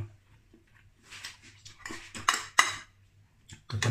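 A metal cooking pot clanks and scrapes several times in irregular bursts, with a couple of louder clangs standing out against a quiet room.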